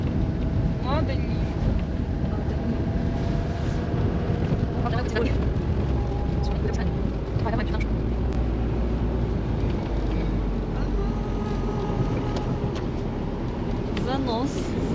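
A Chevrolet Niva drives off-road, a continuous low engine drone and rumble with wind buffeting the microphone and occasional rattles and creaks from the bumpy ground.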